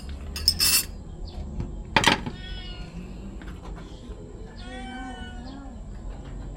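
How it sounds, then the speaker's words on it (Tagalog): A cat meows several times nearby, drawn-out and wavering cries around the middle and later part, while cutlery and dishes clatter sharply early on at an outdoor meal during a getaway. "Ay, baka makain ng pusa eh."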